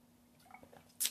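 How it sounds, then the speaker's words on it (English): A single quiet sip of water from close by, a soft wet squish with a short, brighter slurp at the end, heard alone. "Getting a drink of water."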